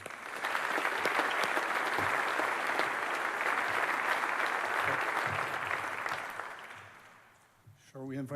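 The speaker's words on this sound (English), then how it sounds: "a huge round of applause to our winners" Enthusiastic audience applause at a university sports awards ceremony, loud and sustained for about seven seconds before fading, after which a voice starts speaking at the very end.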